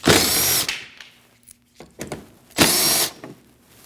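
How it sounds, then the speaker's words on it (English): A power tool whirs in two short, loud bursts up close while backing out 8mm bolts in the inner front wheel well of a 2014-2023 Jeep Cherokee, with a quiet pause between them. "We have 3 8mm bolts. Need to remove those."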